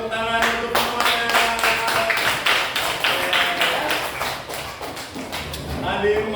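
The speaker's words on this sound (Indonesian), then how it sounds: "Kita tepuk tangan untuk semuanya." Students in an elementary classroom clap together in a quick, regular rhythmic pattern during a photosynthesis lesson, close and fairly loud, with voices chanting or talking along.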